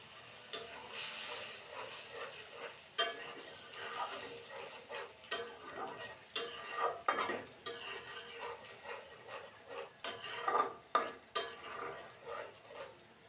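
A spatula stirs food in a karahi wok at home while a pulao, chicken and dal meal is cooked, giving irregular scrapes and sharp metallic taps over a faint sizzle.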